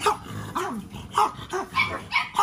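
Dogs at a kennel of French bulldog and American Bully puppies, including tri merle pups, bark and whimper in repeated short yips and whines, close and fairly loud, about five bursts in quick succession.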